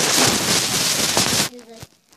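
Heavy rain pours down as a dense, steady hiss that cuts off abruptly, leaving a brief quiet stretch with faint background sounds.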